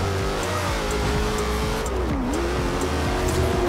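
A powerful rear-drive car slides sideways in the racing game Forza Horizon 2, its engine droning steadily with rising and falling pitch as tires scrub through the drift, with no talk.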